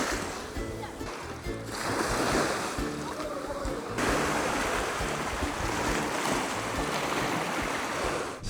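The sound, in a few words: sea waves at Stavros sandy beach, Donoussa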